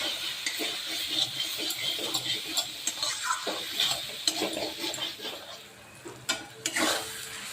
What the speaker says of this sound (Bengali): সুন্দর করে মশলাটা কষে নেব।